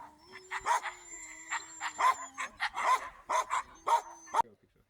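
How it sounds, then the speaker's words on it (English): Several beautiful, very loud and yappy sled dogs at Camp Tamok near Tromsø, Norway, bark and yap in a rapid, irregular series of sharp close calls that keep going to near the end, with a steady whine or hum underneath. "But they were such beautiful dogs. They were very, very loud and yappy,"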